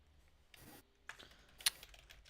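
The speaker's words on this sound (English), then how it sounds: "Just typing." Short bursts of computer keyboard typing, a few scattered keystrokes and clicks with pauses between them, close and fairly quiet against a near-silent background.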